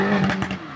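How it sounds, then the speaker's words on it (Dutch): A car driving close past a person standing at the roadside on a street, a loud engine drone with a steady tone that swells and then fades slightly as the car goes by. "En Jeffrey gaat even langs me rijden"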